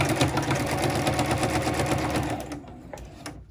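A home sewing machine stitches a fabric seam in a fast, even mechanical chatter that runs up close, then slows and stops near the end, leaving a few light clicks.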